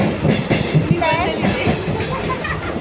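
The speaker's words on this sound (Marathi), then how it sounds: "आम्ही चर्चगेटची ट्रेन पकडलेली आहे" A Mumbai local train bound for Churchgate rumbles steadily along the tracks with rhythmic clatter and a brief metallic wheel squeal, heard from inside a carriage.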